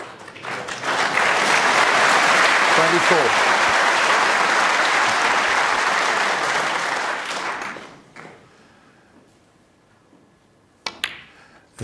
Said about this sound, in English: The crowd were clapping before that reached the pocket